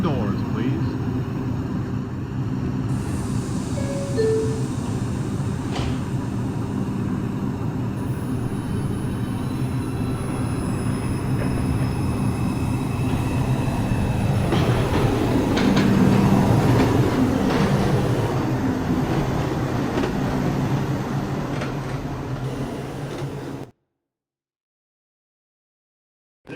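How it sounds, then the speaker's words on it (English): An R142 subway train on the Manhattan-bound 5 local pulls into Morris Park station in New York City, a continuous rumble that swells louder midway with faint tonal squeals, then cuts off abruptly into silence near the end. "There is a Manhattan-bound train approaching the station."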